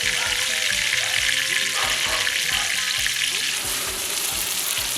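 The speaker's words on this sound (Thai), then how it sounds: "เอาเสียงน้ำมันหน่อย" Oil sizzles loudly and steadily as softshell turtle fries in a pan for a rustic Thai home-style dish, a dense continuous crackle with some stirring clatter and no talk.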